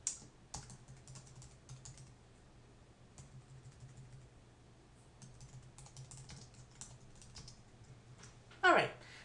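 Computer keyboard typing a meetup name: a steady run of quiet, close key taps for several seconds over a low hum, ending in a brief louder burst of clicks.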